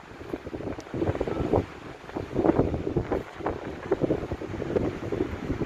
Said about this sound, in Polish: No, ale fale!